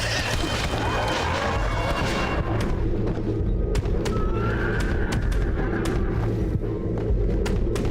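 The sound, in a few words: horse neighing in video game Red Dead Redemption Undead Nightmare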